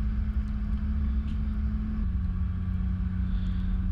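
An M80 series four-wheel drive grinds slowly up a steep bush track in low range, its engine holding a steady, close, rumbling drone with a slight pitch drop partway through.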